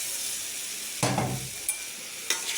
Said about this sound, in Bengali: এর মধ্যে আমি আলু কুচিগুলো ঢেলে দিচ্ছি।